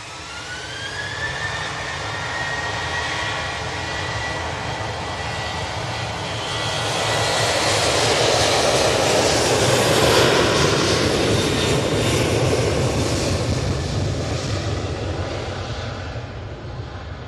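A Ryanair jet airliner at Manchester Airport roars steadily as it passes, its engine noise swelling to a loud broadband rush in the middle and then easing slightly, with no voices.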